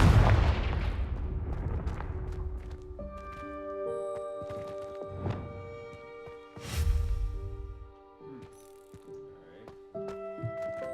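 Confringo explosive spell blast in Hogwarts Legacy: a sharp, booming impact opening the clip, with further bursts and crackles that fade into ringing, sustained game tones and mechanical clicks.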